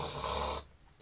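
A voice imitates a guard's snoring with one loud, drawn-out rasping breath that cuts off abruptly, heard alone.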